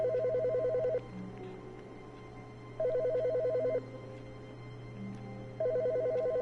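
In The Stanley Parable: Ultra Deluxe, a phone trills in three regular bursts roughly three seconds apart, steady and fairly loud over a low constant hum and faint game sounds.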